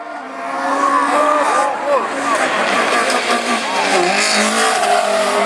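An Audi A1 rallycross car races in a French championship heat at Lessay, its engine roaring and shifting loudly among other cars, with a commentator talking over the din.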